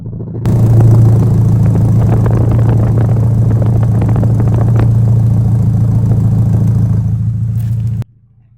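A 1986 Porsche 944 Turbo with a non-stock straight-pipe exhaust and single rear exit idles loudly up close, a deep steady rumble that starts abruptly, holds for several seconds with slight rough pulsing, then cuts off sharply.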